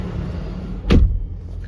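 A car door shuts on a 2021 Porsche Macan 2.0T, a single solid thud near the middle, close and fairly loud over a low idle rumble.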